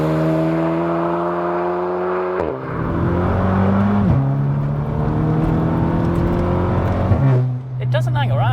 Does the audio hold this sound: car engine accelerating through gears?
yes